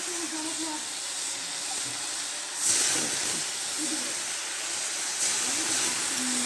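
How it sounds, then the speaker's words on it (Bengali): Paneer fries in a pan for a home lunch, giving a steady hissing sizzle that swells louder midway, with a faint voice murmuring underneath. "এই দেখো পনিরটা বসিয়ে দিচ্ছি"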